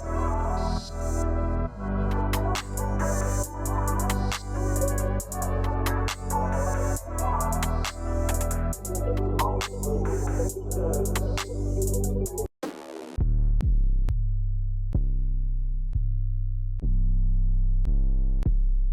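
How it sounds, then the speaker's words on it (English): FL Studio synth lead with ping pong delay and reverb, bright plucked notes repeating in a steady pattern over a heavy low bass, then a short drop-out and a sparser, echoing tail. "Let's just add some reverb to this to make it even more space here."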